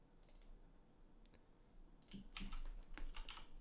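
Computer keyboard typing and mouse clicks during SEO setup work, with short bursts of light keystrokes and clicks, quiet and close, becoming denser near the end.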